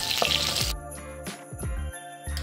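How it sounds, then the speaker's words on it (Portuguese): Chopped onion joins sausage frying in a pan, giving a soft sizzle with light clinks of a utensil against the pan across a couple of seconds. "Agora vamos colocar a cebola picada na linguiça que está fritando."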